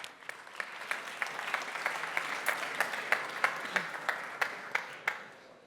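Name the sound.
applause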